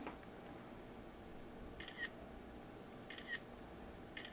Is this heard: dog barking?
no